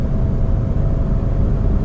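A Peugeot 407 V6 Coupé with a petrol engine and manual gearbox drives along, its steady low engine drone and road rumble heard from inside the cabin, continuous and fairly loud.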